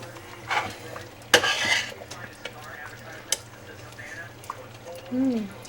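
A pot of figs simmering on the stove is stirred with a utensil, giving soft scraping and occasional clinks against the pot, with one louder scrape and a thicker bubbling burst near the end.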